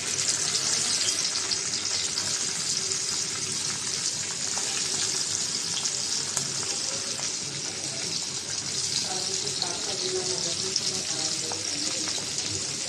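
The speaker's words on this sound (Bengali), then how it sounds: "তেলটা গরম হয়ে গেছে মাছটা দিয়ে দিলাম" Mixed small fish fry in hot oil, giving a dense, continuous hissing sizzle that stays loud and even throughout, heard up close with no talking.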